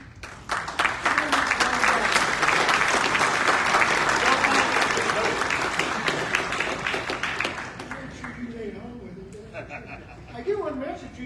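A convention audience at an American Legion state gathering breaks into sustained applause, a dense wash of many hands clapping that holds loud and steady for several seconds before tapering off, with a voice speaking briefly as it fades.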